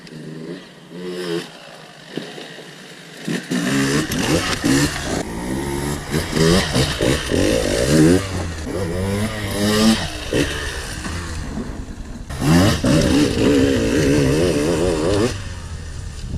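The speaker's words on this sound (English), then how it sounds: "On the 2020 I can ride the little enduro cross track here all in second" A 2020 KTM 150 EXC TPI two-stroke enduro motorcycle ridden on a small enduro cross track, its loud buzzing engine revving and rising and falling in pitch close by after a brief quiet start.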